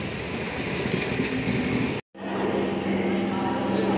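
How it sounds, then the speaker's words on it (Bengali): A train rolls into a railway station with a loud continuous rumble and low hum, briefly cut off midway, with people talking around it. "হ্যাঁ, একটা ট্রেন ঢুকে গেছে।"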